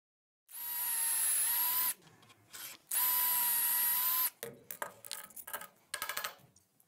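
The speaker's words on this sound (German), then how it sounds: "können jetzt sofort loslegen mit dem Bohren" Two loud, steady bursts of a power drill boring pocket holes through a workpiece clamped in an automatic pocket-hole jig, each about a second and a half long, followed by clattering and handling noises.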